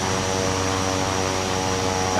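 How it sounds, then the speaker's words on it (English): Aircraft engines running in Microsoft Flight Simulator 2024, a loud, steady propeller drone with a constant hum and high whine that holds unchanged throughout, with no voices. "please kill your engines so we can hear ourselves think"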